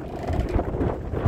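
Wind blowing steadily across a marina dock in Mindelo, heard as a continuous low, rumbling buffet on the microphone with no pauses and no talking.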